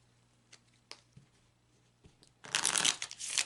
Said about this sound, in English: let's go ahead and shuffle that into the cards